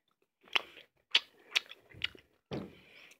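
Someone chews canned spaghetti and meat sauce up close, with about five distinct wet, crunchy bites spaced roughly half a second apart against a quiet background, no talking.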